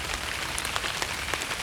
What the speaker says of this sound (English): it's starting to rain pretty hard